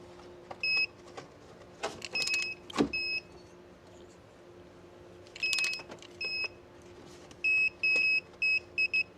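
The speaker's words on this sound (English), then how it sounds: "Why are you beeping at me?" A 2012 Dodge Avenger gives short electronic beeps in bursts during a spark plug and coil replacement, some single, some in quick runs, with clicks and small mechanical noises between them.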